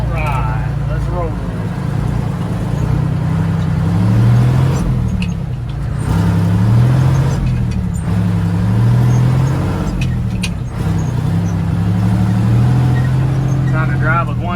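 A truck hauling a load of fill for a shop pad drives steadily, its low engine drone rising and falling in pitch as it works through several gear changes, loud and close throughout.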